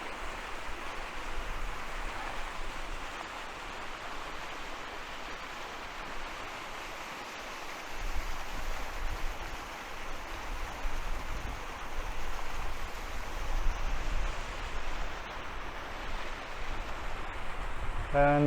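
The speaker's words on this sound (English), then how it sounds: "We've come across this little waterfall." Small waterfall in Great Langdale in the Lake District, a steady broadband rush of falling water heard outdoors at moderate distance, continuous throughout.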